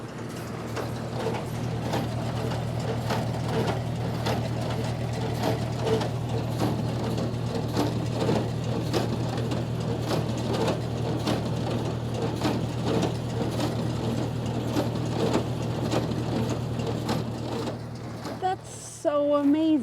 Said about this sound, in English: That noise is the hay baler.